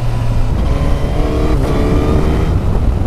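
Suzuki GSX-S1000 GT motorcycle engine on a test ride, accelerating with a loud, close roar and a rising pitch, a tone shift as the gear changes partway through, no voices.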